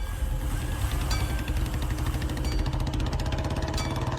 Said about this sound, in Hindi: इतने में बाइक स्टार्ट होने की आवाज आई